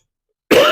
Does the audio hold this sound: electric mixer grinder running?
no